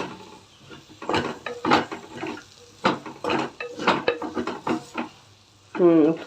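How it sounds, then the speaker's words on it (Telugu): Okra fry is stirred in a pan, giving a run of uneven scraping and clattering bursts close up, with a short voice near the end. "నేను వేసేసి మొత్తం కలిపేసుకుందాం కలిసేలాగా"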